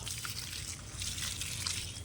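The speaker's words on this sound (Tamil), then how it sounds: "தண்ணி தெளித்து விட்றலாம் நல்லா" Water is sprinkled onto soil layered over compost, a soft close trickle and patter lasting a couple of seconds.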